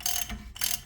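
A ratchet wrench winding a nut onto the drive shaft of a Jaguar XK X150, two quick bursts of close, rapid clicking separated by a short pause.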